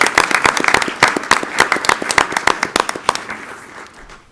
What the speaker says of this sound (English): One more final round of applause.